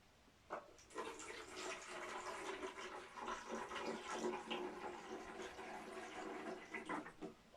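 Water pours into a watering can as a soft, steady splashing stream that lasts around seven seconds, faint and heard on its own without any talk.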